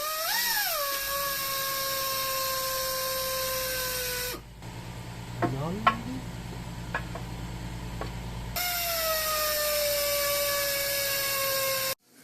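A grinder works on a bearing race from an early Evo Harley-Davidson Tour Glide. Its high, steady whine swoops in pitch as it spins up, drops to quieter scraping and squeaks in the middle, then returns at full whine before cutting off.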